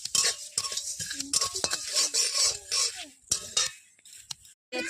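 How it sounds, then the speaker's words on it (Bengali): Coriander seeds are dry-roasted in a pan and stirred with a metal spoon, giving close scraping, rattling and clinking in uneven bursts with short pauses and no talking. "ধনে আছে, এগুলো ভেজে নেব।"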